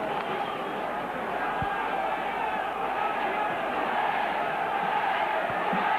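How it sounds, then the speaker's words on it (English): Near-capacity crowd at a 1996 Salford versus Wigan rugby league cup match at the Willows, a steady, dense roar of murmuring spectators that fills the ground, with no one speaking up close. "A great atmosphere here at the Willows. Near capacity crowd."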